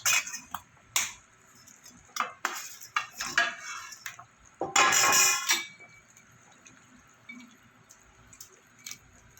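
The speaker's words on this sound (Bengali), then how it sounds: "এবার আমি দিয়ে দেবো ভেজে রাখা মাছ" Fried pabda fish being added to a pot of boiled potatoes in a spicy fish curry, with close metallic clinks and scrapes of a utensil against cookware in irregular bursts and one longer, denser clatter midway.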